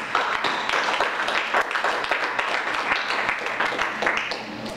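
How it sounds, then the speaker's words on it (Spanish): A church congregation claps steadily and loudly, a dense sustained round of applause with no pauses. "Denle un aplauso fuerte al Señor"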